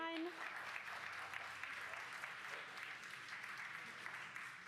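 A crowd cheers and applauds after a SpaceX Falcon 9 booster touches down, a steady roar of clapping and shouts that fills the whole stretch, with a brief voice near the start.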